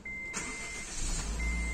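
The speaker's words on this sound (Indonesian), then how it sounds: "suara mesinnya ketika di starter" A Honda Mobilio S manual (2022) engine cranks over with the starter and catches, preceded by a faint electronic whine, heard close without talk.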